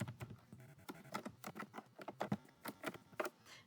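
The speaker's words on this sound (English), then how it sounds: "I'm going to go ahead and just type in Browse Careers" Typing on a computer keyboard, a quick uneven patter of light key clicks, close and fairly quiet, with no talk.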